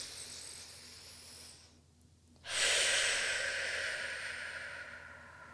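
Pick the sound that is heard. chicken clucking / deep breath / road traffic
deep breath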